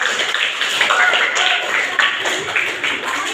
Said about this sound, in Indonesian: Ya, boleh tepuk tangan kepada kelompok 4